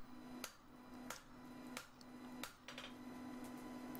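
Hammer blows forging a dagger from rebar, five sharp metallic strikes spaced about two-thirds of a second apart over a steady low hum, with no talking.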